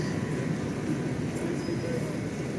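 Steady rumble of a Greater Anglia Class 720 electric train running on the London Overground, heard from inside the carriage as a continuous, even drone of rolling wheels and motor noise.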